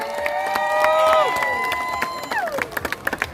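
A crowd of spectators at a long-boat race applauds and cheers outdoors in a sustained wash of clapping, while an announcer's amplified voice carries over it with whistling tones.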